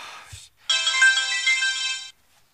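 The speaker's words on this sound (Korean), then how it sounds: "오밤중에 전화질이라니 상당히 부담스럽네요" A phone ringtone sounds late at night, a single electronic melodic ring lasting about a second and a half, clear and close, preceded by a brief soft murmur and then cut off into silence.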